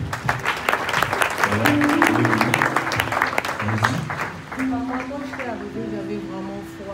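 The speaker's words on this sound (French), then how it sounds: "on acclame le Seigneur" A church congregation applauding during a worship service, a dense sustained clapping that swells and then thins out, with voices and singing mixed in and a person speaking over it.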